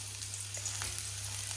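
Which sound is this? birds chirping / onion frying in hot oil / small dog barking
onion frying in hot oil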